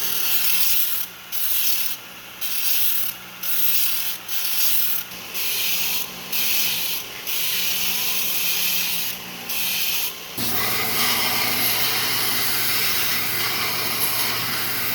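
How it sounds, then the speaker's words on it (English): Harsh, steady grinding of a canister Damascus steel knife on a surface grinder, broken by short regular pauses, then running continuously over a low machine hum. "Now we're going to take it over to the surface grinder and we're going to clean it up."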